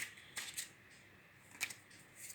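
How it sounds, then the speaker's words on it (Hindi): Tarot cards being shuffled during a card reading, soft papery riffles and flicks in a few quiet bursts with gaps between, close and faint, no talking. "ओके, फिर से शफल करते हैं।"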